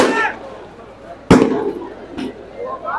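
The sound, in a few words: firecrackers bursting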